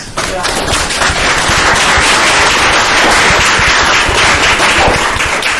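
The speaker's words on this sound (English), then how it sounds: "let's do another round of applause for you guys" An audience at a city arts commission meeting breaks into applause, a loud, dense wash of many hands clapping that holds steady from start to finish.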